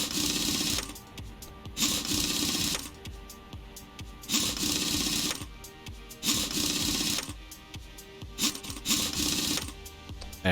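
Repeated whirring ratchet bursts of an impact wrench as wheels are bolted onto a car in Car Mechanic Simulator 2018, each burst lasting about a second with short quiet gaps between, steady and close.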